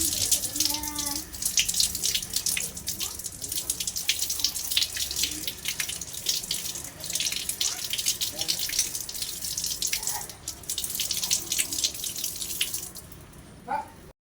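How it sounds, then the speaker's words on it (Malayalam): Tap water runs steadily over a few leaves being rinsed of soil and mud, a continuous close splashing hiss with small shifts as the leaves are handled. "നമുക്ക് നന്നായിട്ട് ഇതിലുള്ള മണ്ണും ചളിയൊക്കെ കഴുകി കളയണം കേട്ടോ."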